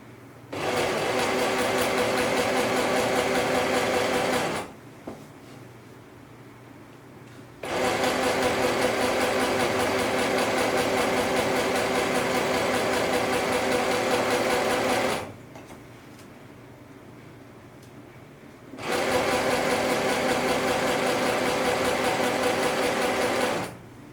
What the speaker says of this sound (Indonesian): Sekarang kita jahit keliling pesak, kampuhnya setengah senti ya.